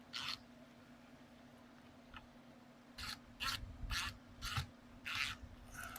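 Short bursts of scraping and squeaking from a motion sensor floodlight mount being screwed into place, a few scattered strokes and then a run of about six rhythmic turns, close and fairly quiet.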